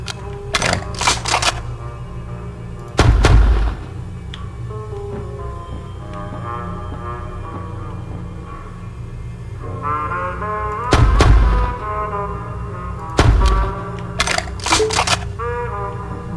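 Video game gunfire on an empty online capture-the-flag server: a few heavy, booming shots spaced seconds apart, with a burst of sharper cracks near the end, over steady game ambience and a low musical drone.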